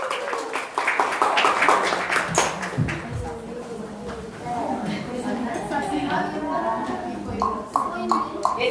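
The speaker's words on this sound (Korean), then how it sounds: "우리 아이들의 무대를 큰 박수로" Church congregation applauding to welcome children onto the stage during an Easter Sunday service, steady clapping mixed with chatter and a voice speaking over it, continuing throughout.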